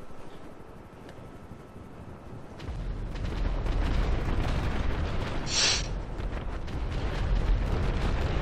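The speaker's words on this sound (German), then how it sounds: "Jetzt explodiert wieder alles." Loud, continuous rumbling blasts and booms of GTA V Online explosions fill the clip, starting quieter and then swelling into heavy sustained roaring with a brief high hiss midway.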